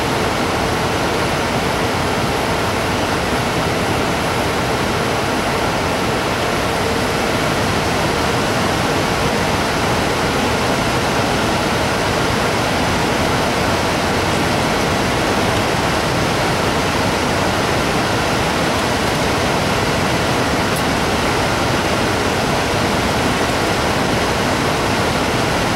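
Water runs steadily from a tap to rinse out a container while nutrient feed is mixed for indoor plants, a loud, continuous broadband rush that stays even throughout with no talking.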